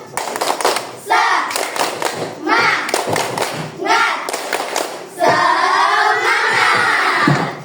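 A classroom of Indonesian schoolchildren performs a rhythmic spirit clap, with loud, close bursts of clapping and thumping mixed with the children chanting and shouting in unison.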